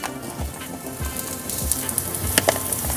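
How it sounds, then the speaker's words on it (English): Onions sizzle on a gas grill, a close, continuous crackling sizzle with fine popping spatters and a few soft scraping knocks underneath. "I'm gonna go with onions first, as many onions as I can"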